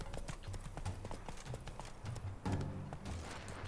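Horse hooves clip-clop at a galloping pace in The Witcher 3 video game, a quick, steady rhythm of soft thuds that runs throughout, with a louder burst of hoofbeats near the end.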